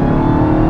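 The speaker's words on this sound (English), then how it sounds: "If you go into manual mode, it'll very quickly downshift right where you want it to." A Dodge Charger SRT Hellcat Redeye engine revs loudly and steadily up close for a short burst, a dense continuous roar as the automatic gearbox downshifts in manual mode.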